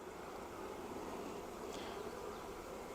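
Honey bees from a swarm crawling on hive frames, a steady continuous hum close by, even in loudness throughout with no talk.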